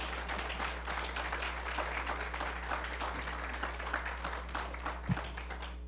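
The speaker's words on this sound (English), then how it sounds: "Let's give them an applause." Steady applause from an audience, a dense patter of many hands clapping at an even level for several seconds, with a faint low hum underneath.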